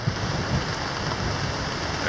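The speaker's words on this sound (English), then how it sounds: "now you can definitely tell it's right over top of us, and that thunder is cracking." Heavy rain from a thunderstorm off Lake Michigan drums steadily on a camping tent, a loud, dense, unbroken wash of drops close overhead, with a low rumble beneath it.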